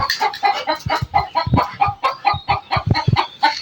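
A chicken clucks in a rapid, uneven run of short calls, close and loud, with no talking.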